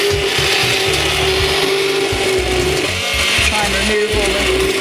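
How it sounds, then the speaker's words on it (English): A stick blender purees tomato soup close by, a constant loud whirring drone with a rough, churning texture as it works through the chunks, no voices. "And I use a stick blender."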